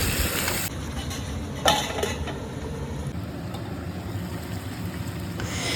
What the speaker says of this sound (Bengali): ম্যারিনেট করে রেখেছিলাম যে মাংসটা, সেই মাংসটা দিয়ে দিচ্ছি কড়াইয়ের মধ্যে